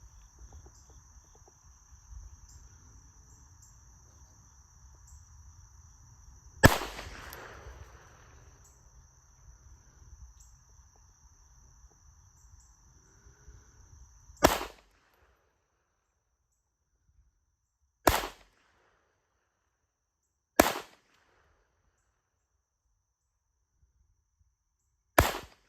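Hi-Point CF380 .380 pistol fired at an outdoor range: several sharp, loud single shots spaced a few seconds apart, with a faint steady insect buzz and quiet background hiss between them.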